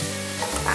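Carrots and shiitake mushrooms stir-fry in a hot pan for a vegetarian cabbage dish, giving a steady, close sizzle with a quick scrape of stirring.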